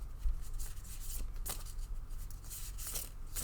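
A deck of tarot cards is shuffled by hand in irregular soft riffles and papery flicks, a few sharper snaps among them, close and quiet with no talking.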